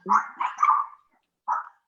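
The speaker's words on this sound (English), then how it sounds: "can y'all hear my dogs now?" Pet dogs barking outdoors: a short cluster of two or three barks followed by a single bark after a pause, fairly faint and somewhat distant, with no talk over them.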